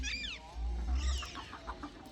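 Free-range hens on a Punjab poultry farm cluck in a short run of close, chattering calls, one rising squawk standing out over a low background rumble.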